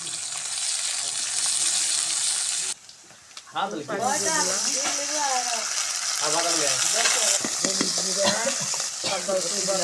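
Onions with white and black cardamom frying in a pan for pulao, a loud steady sizzle that cuts out briefly, then returns beneath a voice talking over it.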